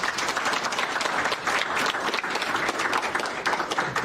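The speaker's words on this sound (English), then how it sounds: "a big round of applause for all our sponsors" An evening lecture audience gives a round of applause for the event's sponsors, a dense, even wash of many hands clapping that holds steady throughout, with no talking over it.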